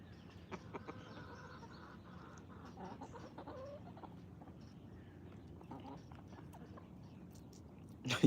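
Farm chickens cluck softly at a distance over a steady outdoor background, with a few short clucks and scattered thuds, then a brief loud knock near the end.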